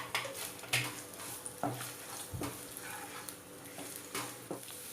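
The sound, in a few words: ginger and red chillies frying in hot oil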